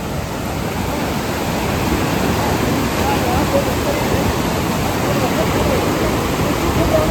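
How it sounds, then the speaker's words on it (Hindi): A fast-flowing, icy river is waded through on a trek in Shimshal Valley, Hunza, Gilgit-Baltistan. Its steady, loud, broadband rushing roar runs unbroken and close throughout. "पानी की रफ्तार बहुत तेज़ है और इसकी ठंडक से पाँव सुन्न हो जाते हैं।"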